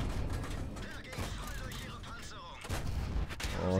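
In World of Tanks, heavy tank cannon shots boom amid dense, continuous battle noise, with a few sharper blasts standing out near the end while someone talks over the action.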